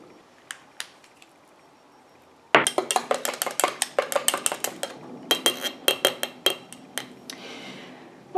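A lotion mixture being stirred in a container, starting with a couple of faint taps, then a burst of quick, close clinks and scrapes of a utensil against the vessel in an uneven, rapid rhythm.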